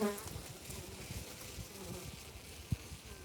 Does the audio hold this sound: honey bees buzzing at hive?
yes